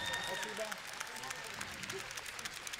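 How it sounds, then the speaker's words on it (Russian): Audience applause for the finalists of an adult Latin ballroom dance competition, a rumba final at the Minsk Open, steady and moderately loud from start to finish, with a faint tonal note and a few voices mixed in. "Приветствуем аплодисментами финалистов"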